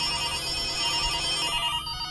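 A telephone rings in the ARAYA horror video game, a steady electronic ringtone that fills the clip loudly and then drops away near the end, with no voices.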